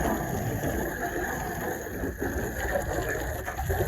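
A water hose sprays steadily, rinsing winter snow grime off a 2003 Celica GT, with a dense, rain-like hiss that continues without a break.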